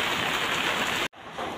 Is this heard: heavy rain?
yes